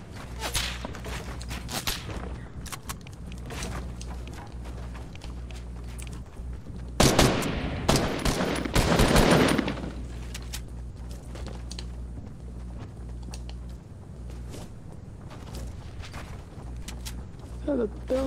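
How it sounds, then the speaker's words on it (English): Sniper rifle fire in Fortnite on Xbox One X, scattered sharp shots with one dense cluster of cracks midway, heard under ongoing voice chat and game sounds. "Being sniped."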